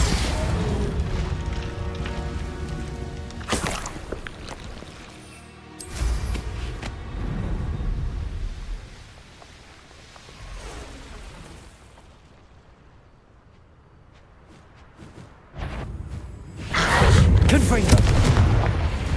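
Several heavy magical spell explosions from Confringo and Bombarda in Hogwarts Legacy, loud booming blasts separated by quieter stretches, with a big rumbling burst at the end; a voice is heard between them.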